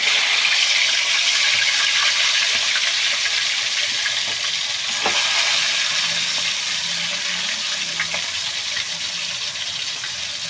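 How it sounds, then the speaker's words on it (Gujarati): Chicken hits a pan with onions already fried in it and fries with a loud, constant broad hiss that barely changes, joined by a few faint clicks. "હવે આપણે એમાં ને એમાં આપણે આપણું ચિકન એડ કરી દઈશું"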